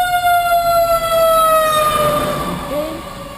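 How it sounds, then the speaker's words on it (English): Several fire engines and an ambulance pass with wailing sirens, one loud siren tone sweeping steadily downward as it draws away, over rumbling traffic noise with no talk. "that was one, two, 3 fire engines and an ambulance"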